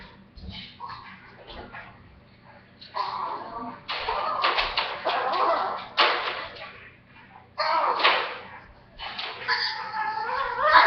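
Dogs at home howl and whimper in rising, wavering bursts, several long howls separated by quieter yips and whines, close and fairly loud.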